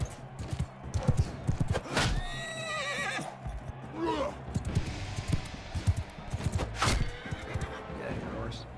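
Horse in Bannerlord gameplay: clip-clopping hoofbeats run throughout, broken by a couple of loud, pitched whinnies, while a voice talks over the game sounds.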